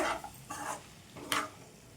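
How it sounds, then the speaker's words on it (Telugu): Spice powder being stirred into brinjal pieces for a masala fry, heard as three short scraping, rustling strokes spaced about half a second apart, close and fairly soft with quiet gaps between. "ఈ పొడి వేసుకొని ఒకసారి మొత్తం ఈ ఈ వంకాయ ముక్కలకి మొత్తం పొడి మొత్తం పట్టేటట్టు కలిపేసుకోవాలండి"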